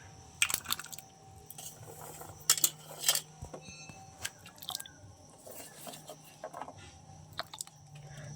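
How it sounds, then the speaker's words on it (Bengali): Cut jackfruit seeds dropped into water in a pot, a string of irregular clinks, clatters and wet knocks of pieces hitting metal and water, close and without talk. "এবার যে কেটে রাখা আটিগুলো দিয়ে দেবো।"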